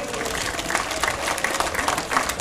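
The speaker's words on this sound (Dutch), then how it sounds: "En dan vat je nu een applaus voor Evert Scheltinga." A crowd at a triathlon in Ghent claps for the athlete Evert Scheltinga, a rhythmic outdoor applause with recurring pulses, busy and fairly close throughout.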